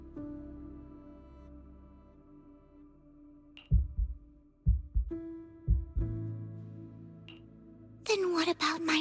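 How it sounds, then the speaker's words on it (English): Heavy, irregular heartbeat thumps from the Zenless Zone Zero video game pulse beneath steady held music tones, stopping before a voice cuts in at the end. "Then what about my racing heartbeat?"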